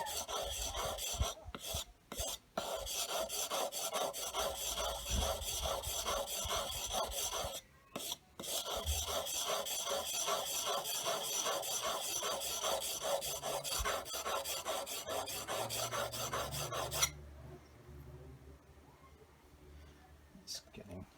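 Steel blade scraped back and forth on a coarse flat sharpening stone, a steady rapid rasping rhythm with a few short pauses, close and loud, ending with lower handling and bumping sounds.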